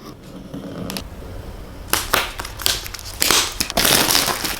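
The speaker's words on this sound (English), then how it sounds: "there's no special thing to lift, so I get to use my knife" A knife slices open the plastic-wrapped packaging of a new iPad 10.2-inch box, a quiet scrape followed by several loud, close crinkling and tearing bursts of plastic and cardboard.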